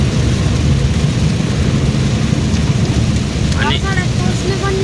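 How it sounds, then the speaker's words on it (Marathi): Heavy unseasonal rain pours in a loud, steady roar during April–May, with brief voice-like tones near the end. "पाऊस किती जोरात चालू आहे"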